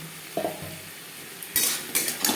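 Potatoes tossed into an onion-spice masala in a pan: a couple of soft clanks, then bright scraping stirs over a quiet sizzle, close up and without speech.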